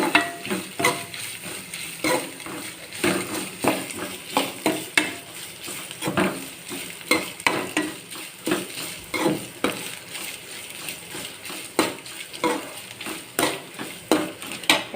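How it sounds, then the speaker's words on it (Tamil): Grated coconut is lightly sautéed in a pan with a mustard seed and urad dal tempering. A soft sizzle sits beneath frequent scraping and stirring clatter from the utensil on the pan. "தேங்காய் பூவை திருவி அதை கொஞ்சம் லைட்டாக வதக்கி விடணும்."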